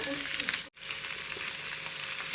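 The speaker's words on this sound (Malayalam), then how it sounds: "ഇനി നമ്മൾ അതിലോട്ട് പയറിട്ട് കൊടുക്കുകയാണ്." Beans added to a hot pan for a Kerala lunch dish, frying with a steady close sizzle and a brief dropout near the start, no talk.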